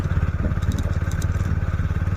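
A motorcycle engine runs steadily at close range, a throbbing low rumble with a fast, even pulse.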